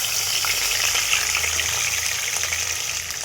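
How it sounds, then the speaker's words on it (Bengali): Garlic and onion paste frying in hot oil, giving a steady, loud, continuous sizzle with no voices. "তেল দিয়ে দিলাম, রসুন বাটা, পেঁয়াজ বাটা"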